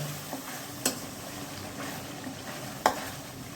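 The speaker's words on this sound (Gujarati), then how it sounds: "હવે આપણે વટાણા અને રગડો છે બંને બાફ્યું છે એ આપણે બંને એડ કરી દઈએ।" Boiled peas and ragda are added to a pan of oil-cooked tomatoes and stirred, giving a soft continuous sizzle with two sharp spoon clinks against the pan.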